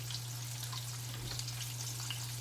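Rabbit pieces fry on a stove, a continuous crackling sizzle with scattered pops over a low, steady hum.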